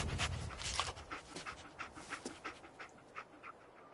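A dog pants rapidly and sniffs close by while tracking a scent, with steady quick breaths, wet nasal snuffles and a few brief whimpery notes, and no voices over it.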